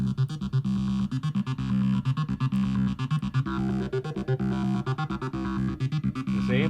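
Synth bass run through a vowel filter with its resonance opened up, sounding dirty and present in an electronic dance track; a busy, steady pattern of rapid repeated notes plays loud and close with no voices.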